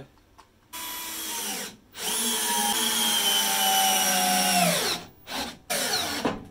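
A Bosch GSR 12V-15 cordless drill driver drives a countersunk screw into wood, its motor whining in two sustained bursts with pitch sliding downward as the load builds, then stopping in short stutters near the end, close up and without talk.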